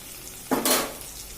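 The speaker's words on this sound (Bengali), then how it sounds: "পেঁয়াজগুলো বেশ ভাজা হয়ে গেছে। এবার রসুন, আদা আর জিরে যে বেটে রেখেছিলাম সেটা একসঙ্গে দিয়ে দিলাম।" Ground garlic, ginger and cumin paste hits browned frying onions in a hot pan, a sudden loud sizzling burst that rises and then fades back to a low hiss.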